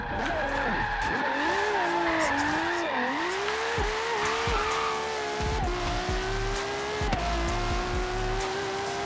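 A LaFerrari hypercar in the racing game Forza Horizon holds a loud engine note that rises and falls through gear changes while tyres squeal and skid in long drifts, with a few sharp bumps along the way.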